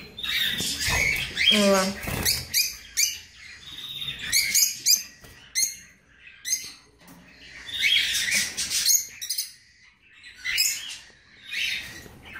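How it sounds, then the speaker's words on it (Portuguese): A pair of pet lovebirds, a creamino female and a harlequin male, chirp and squawk in loud, sharp bursts close by, with short gaps between calls and a person speaking briefly at the start. "é um casalzinho de agaporn que eu tenho também"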